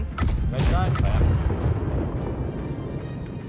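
Heavy ship cannons fire in the naval combat game Blackwake, several deep booms in quick succession that roll into a rumbling tail, with players talking over the barrage.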